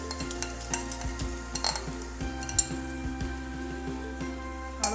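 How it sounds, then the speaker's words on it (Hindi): A spoon gently stirring stuffed brinjals in a pan of hot oil, with repeated scraping clinks against the metal over a soft continuous sizzle, close and fairly quiet. "हल्को हल्को चमचो फेर उन्होंने मिक्स कर लो"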